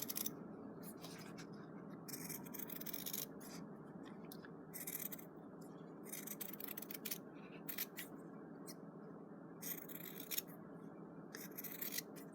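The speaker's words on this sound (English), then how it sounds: "And then all we're going to do is cut it out on the trace line." Scissors snip through fabric along a traced line while making a strawberry pin cushion, giving a close, steady run of small crisp cuts and rustling scrapes over a faint background hum.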